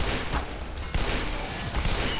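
Gunfire in the Black Mesa game on hard mode, a loud, dense stream of rapid shots with a few sharper bangs standing out, continuous and close.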